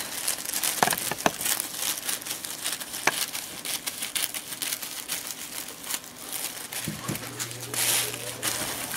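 A plastic shopping bag is cut and handled, its bottom and handles trimmed off. Close crinkling and rustling run throughout with sharp crackles and snips, and a voice can be heard at times.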